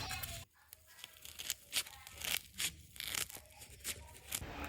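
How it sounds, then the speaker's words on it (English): Scissors snipping and tearing through the edge of EPE foam for a candy cane Christmas decoration, a close series of crunchy, crackling cuts at an uneven pace with no voices. "And because the EPE form is more on the square side, so I just use my scissor to cut the edge."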